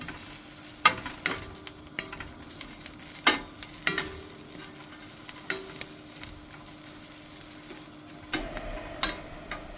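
Fresh coriander roasts in a hot pan, giving a faint sizzle beneath repeated clinks and scrapes of a utensil against the pan, close and without speech.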